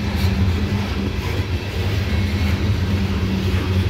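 A loaded CSX coal train passes the Parrs Ridge summit with a continuous low rumble and grinding roar, steady and loud throughout, and no voices are heard.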